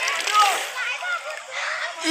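Swimmers splash and slosh in a village river in Thane district, a steady wash of broken water under lively voices calling out nearby.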